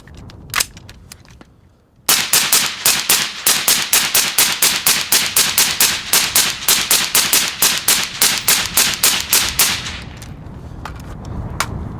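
Rapid semi-automatic gunfire through a red-hot DeadAir Sierra 5 suppressor, a long rhythmic string of about thirty sharp loud cracks after a single shot, with the shooting stopping near the end.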